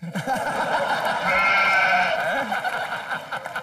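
A person imitates a goat's bleat with a drawn-out, wavering nasal cry, loud and close.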